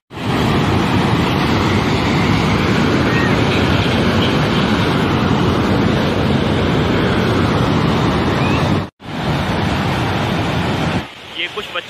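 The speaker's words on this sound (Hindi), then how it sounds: "काफ़ी रफ्तार के साथ पानी यहाँ से फ्लो कर रहा है। पानी को गिरते हुए देख के बहुत ही अच्छा लग रहा है यहाँ पे" Fast-flowing water pours and falls at the Shamai canal near Lal Suhanra, Bahawalpur, making a loud, continuous close-up roar. It is broken only by a brief dropout near the end.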